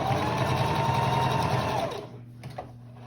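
A sewing machine runs steadily as it stitches a pot holder, a loud continuous motor whir that stops abruptly about two-thirds through, leaving a short quiet tail with a faint tap.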